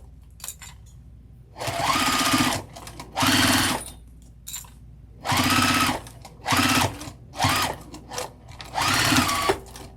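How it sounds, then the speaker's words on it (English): Sewing machine back stitching a crossbody bag, running in several short bursts of rapid mechanical whirring separated by brief pauses, close and loud with no talking. "I'm gonna back stitch."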